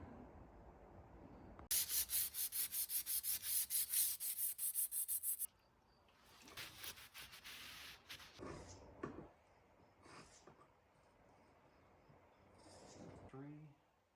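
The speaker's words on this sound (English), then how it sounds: "So I'm gonna go ahead and do a little hand sanding" Gel coat on a Precision 16 sailboat is hand sanded with a steady rapid back-and-forth rasping stroke for a few seconds, close up, followed by quieter intermittent rubbing and handling noises.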